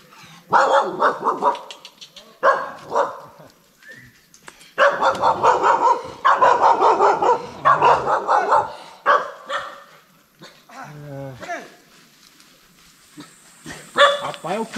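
Several dogs bark repeatedly at a kennel, loud and close, in bursts with short gaps, while people talk intermittently between and over the barking.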